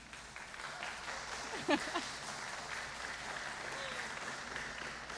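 A synagogue congregation at an education celebration applauds someone being honored, a soft, steady spread of clapping from across the room while a person speaks over it.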